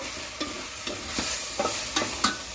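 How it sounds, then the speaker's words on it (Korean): Ingredients stir-fried in a hot pan sizzle continuously, with rhythmic scraping strokes of the spatula about every half second, close and without talk. "계속 이렇게 볶아줘야 돼요. 안 그러면 타요."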